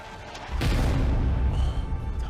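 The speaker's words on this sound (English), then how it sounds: "He does fire the cannon, though." A cannon fires in a chess video game, a sudden loud boom at about half a second that rolls into a sustained rumble and fades slowly, with no talk over it.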